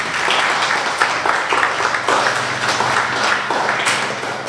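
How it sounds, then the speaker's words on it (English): Sustained applause from an audience fills a school award assembly for Stage 2 students, steady and fairly loud with dense overlapping claps throughout. "Give them all a big clap."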